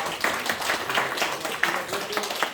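A crowd at a Korean Methodist church revival gathering claps in a steady, dense round of applause at moderate volume, with no clear pauses.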